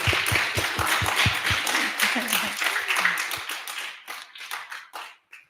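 A small audience claps at a 2024 inauguration ceremony, a burst of crisp hand claps that thins to scattered individual claps and fades out, with people speaking over it.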